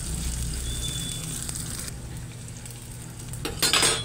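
Garlic and onion slices sautéing together in a pan for kare-kare with cubed pork, a steady low sizzle and frying hiss with occasional stirring and utensil clinks, growing louder and busier near the end.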